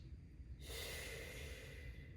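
Sharp nasal breathing from a person in a yoga exercise that imitates a rabbit's breath, a sudden rush of air sniffed in through both nostrils and held steady, close and fairly loud, with no speech.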